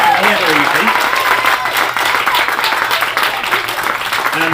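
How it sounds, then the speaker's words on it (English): Wedding guests give a big round of applause after the speeches, continuous loud clapping filling the room, with some voices and cheers mixed underneath. "get one more massive round of applause to the three gentlemen who have made three amazing speeches"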